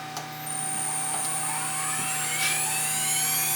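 A CNC router spindle cutting a wood engraving spins up to about 22,000 rpm, its thin whine climbing steadily in pitch over a constant mechanical hum, heard close with no talking.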